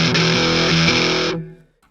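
A bright Omnisphere 2 synth preset is pushed through distortion, giving a sustained, buzzy, harmonically dense chord that holds loudly for over a second before the upper tones cut away and the remainder fades out.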